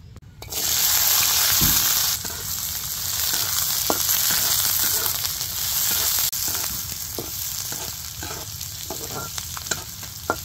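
Onions frying in a pan for a fish bhuna, a loud sizzle that starts abruptly and carries on with occasional stirring clicks and scrapes, the hiss easing slightly toward the end.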